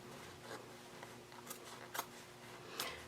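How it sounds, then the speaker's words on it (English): Scissors snip through fabric around a zipper pocket overlay, quiet close cuts spaced irregularly, with a few sharper snips standing out over a soft, steady background. "I'll just start cutting all the way around"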